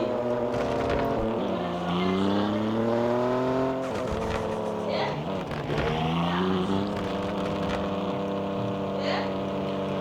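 Car engines in the game Car Parking Multiplayer at a BMW car meet, revving and droning loudly with pitch that climbs and falls again and again, continuous and close for the whole stretch.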